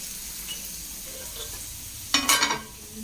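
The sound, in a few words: curry leaves, onion and mustard seeds sizzling while tempering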